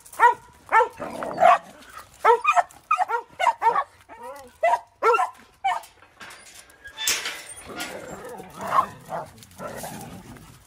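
A dog barks close by in a rapid series of sharp, repeated barks, then quieter yips and whimpers trail off in the last few seconds.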